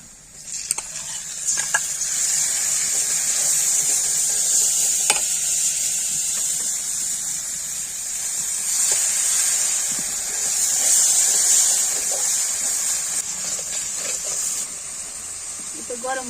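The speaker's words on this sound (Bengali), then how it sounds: "এখন এই যে মশলা ঢালে দেবো।" Spices such as garam masala go into onions already frying in oil, and the pan sizzles with a continuous close hiss, joined by occasional soft scraping and clatter from stirring.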